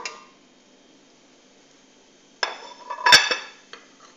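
Onion and dried meat (qadid) going into a metal pressure cooker: a long near-quiet stretch, then a short burst of clanking pot and utensil knocks with a ringing metallic clink.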